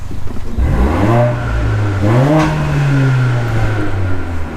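A Mercedes-AMG A45 with a modified engine map revs up twice from idle in long swelling roars, loud and close, then settles back to a steady idle.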